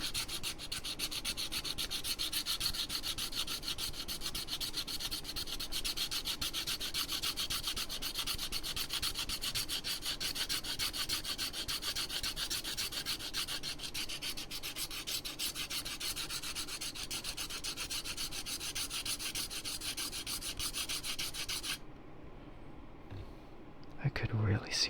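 Steady, close scraping of a file or rasp being worked back and forth across an object, a continuous dense rubbing texture that runs for most of the stretch before stopping abruptly near the end.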